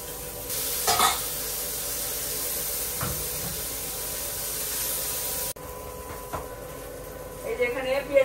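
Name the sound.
chopped onion sizzling while frying in a pan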